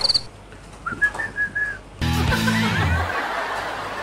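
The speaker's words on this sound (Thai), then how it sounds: "เราจะใช้วิธีการเรียกเขาโดยการผิวปากนะครับ" A person whistles a few short, clear rising and steady notes to call a fennec fox at a small zoo café, then a sudden burst of louder, busier noise takes over.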